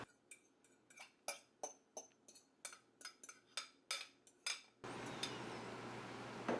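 Vegetables and cheese are dropped by hand into a deep dish pie crust, producing a series of about a dozen soft, close clinks and clatters in an uneven rhythm, followed by a steady low rush at the end.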